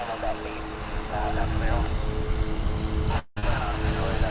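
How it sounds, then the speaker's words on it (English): A jet aircraft roars steadily while taking off at DFW Airport, a broad loud engine noise heard from outside with wind buffeting, briefly cutting out near the end. "I'm doing a little swish pan there so we can capture this plane going up."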